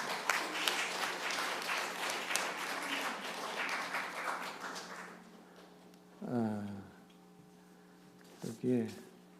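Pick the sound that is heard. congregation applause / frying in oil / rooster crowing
congregation applause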